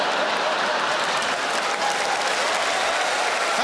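A comedy club audience at a stand-up show breaks into loud, sustained applause, dense clapping from a large crowd filling the room without pause.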